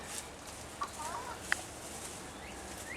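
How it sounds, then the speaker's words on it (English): A few short, faint clucks from chickens and a rooster settling into a newly built coop with nests, roosts and a feeder, spaced out over quiet background hiss. "Got a nice looking rooster."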